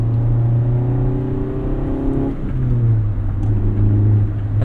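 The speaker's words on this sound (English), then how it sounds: "it has that classic Honda 4-cylinder growl" A 1988 Honda CRX Si's four-cylinder engine growls while driving, a loud steady drone that drops in pitch midway during a shift, then settles into a lower, even hum.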